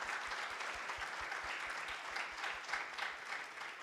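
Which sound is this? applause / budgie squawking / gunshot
applause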